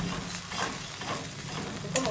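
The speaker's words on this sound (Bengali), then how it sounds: "এই সবগুলো মশলা অ্যাড করা হয়ে গেলে এবার আমি ফ্লেমটা বাড়িয়ে দেব, দিয়ে যতক্ষণ না একদম তেল বেরিয়ে আসছে ততক্ষণ এটাকে ভালো করে কষতে হবে।" Ground spices fry in hot oil over a raised flame for katla rezala, a steady close sizzle with soft scraping as they are stirred around the pan, and no voices.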